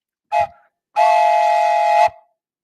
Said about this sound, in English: Drop the train station whistle.